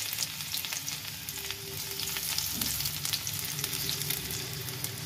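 Finely chopped garlic sizzles in hot oil as a tempering poured over cooked gram-leaf greens, a continuous bright crackle close by with faint clinks and a low background hum, no talking.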